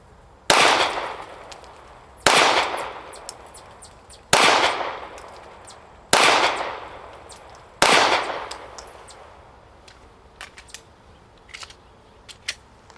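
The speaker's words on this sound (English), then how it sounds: "we're out here with the Glock Model 45. We got the target at 7 yards." Five sharp Glock Model 45 pistol shots ring out at an outdoor range, evenly spaced about every two seconds, each loud crack followed by a brief echo, then small clicks and handling noises.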